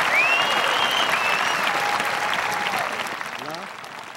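A crowd at the 2006 South St. Paul High School graduation night breaks into loud, sustained applause with a few whistles and cheers, tapering off gradually toward the end.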